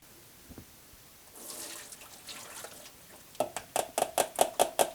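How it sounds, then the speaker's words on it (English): Cooked farro drained at a kitchen sink: a soft rush of pouring water that then gives way to a run of sharp, rhythmic knocks and clatters, close by. "I'm gonna take it to the sink, drain it"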